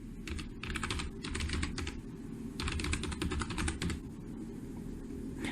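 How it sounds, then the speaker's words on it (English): Computer keyboard typing in bursts of rapid keystrokes, a login username and password being entered, with short pauses between runs over a steady low hum; close and fairly quiet. "Next, we're going to type in the username and the password."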